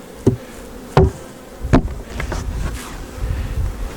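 Honeybees buzz close by in a low hum around an open hive, with a few sharp knocks and thumps early on as the insects drone around.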